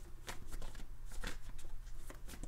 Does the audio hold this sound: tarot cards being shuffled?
yes